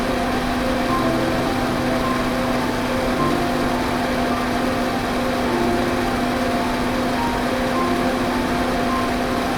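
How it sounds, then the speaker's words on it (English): Massive corn husking machines with spinning brushes and air jets run in a factory, giving a loud, continuous mechanical drone with a steady hum and no breaks. "Massive machines strip away the outer husks and pull off the silk threads with spinning brushes and air jets."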